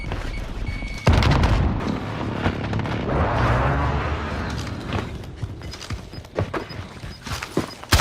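A frag grenade goes off in Call of Duty Warzone, a sudden heavy boom followed by rumbling debris and scattered lighter in-game impacts and clatter, loud and close at first, then fading under continued game noise.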